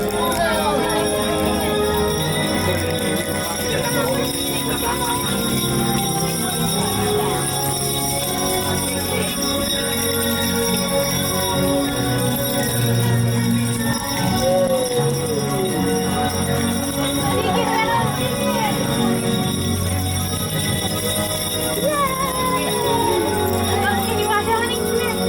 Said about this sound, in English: Everyone take out your bell one more time.